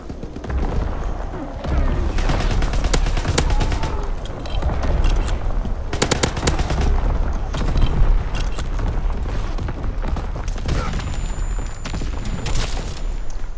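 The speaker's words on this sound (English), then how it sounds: "Incoming enemy artillery" Enemy artillery in a combat video game: heavy booms, rattling volleys of gunfire and mechanical clatter, loud and near throughout, with bursts of sharp cracks recurring over a constant rumble.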